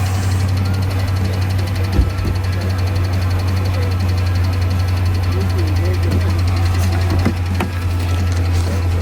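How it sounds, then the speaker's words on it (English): A rough-running, dying Dodge Charger Hemi V8 idles nearby, a steady loud low rumble with uneven knocking throughout and occasional louder thumps. "was overwhelmed by the nearby sound of a dying Hemi"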